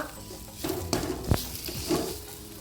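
Minnal keerai greens sautéed in a pan for chutney, giving soft patters and light scraping of the stirring utensil, with a sharper clink near the middle, close and moderately quiet.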